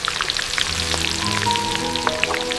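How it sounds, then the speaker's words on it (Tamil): Dried chillies, shallots and tamarind sautéing in a pan with oil, a close steady sizzle dotted with sharp pops and crackles. "காரத்துக்கு காஞ்ச மிளகாய், சின்ன வெங்காயம், கொஞ்சம் புளி சேர்த்து வதக்குங்க."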